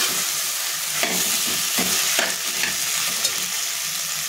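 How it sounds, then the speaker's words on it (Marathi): Cooked pasta with corn, onion and tomato frying in a pan, giving a steady close sizzle broken by a few scraping stirs. "त्याच्यामध्ये आपण टाकून घेऊयात थोडा मका आणि आपण शिजवून घेतलेला पास्ता हे टाकून आपल्याला फ्राय करून घ्यायचे आहे"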